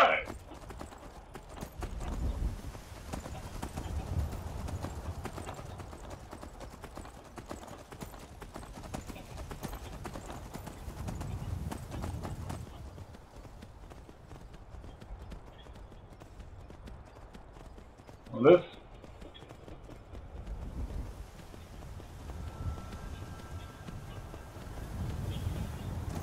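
Steady clip-clop of horse hooves while riding in the video game Skyrim, a continuous rhythmic trotting at moderate distance with a voice talking over it and one short sharp sound midway.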